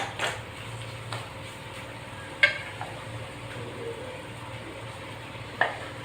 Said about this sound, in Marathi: पीठ जास्त जळायला नको म्हणून मध्ये मध्ये आपण चांगलं हलवत राहायचं